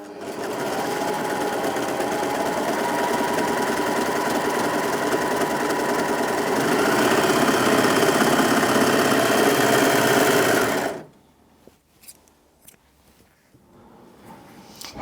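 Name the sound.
Brother 3034DWT overlocker sewing stable cotton-like fabric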